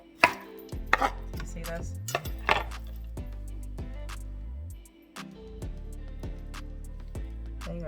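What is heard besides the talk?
knife chopping carrots thinly on a cutting board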